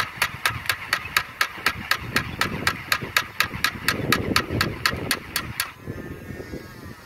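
A Blackhole dart blaster fires a rapid burst of evenly spaced sharp clicks, about twenty in quick succession over a motor-like hum, then stops as the whir winds down.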